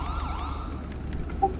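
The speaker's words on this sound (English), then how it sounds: "I still hear siren, I don't know." Wailing police siren from a FiveM GTA roleplay game, sweeping up and down steadily through the short moment with faint game noise beneath, no talking.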